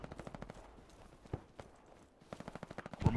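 Suppressing gunfire in a multiplayer war game: bursts of rapid automatic fire at moderate distance, a volley at the start and another toward the end, with a few isolated shots between.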